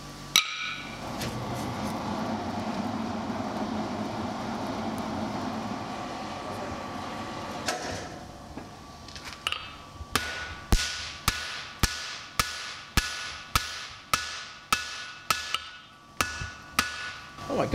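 Small metal hammers striking in a dressed versus naked hammer face test: a steady run of sharp, evenly spaced ringing taps, close and fairly loud, following a stretch of broad background rumble.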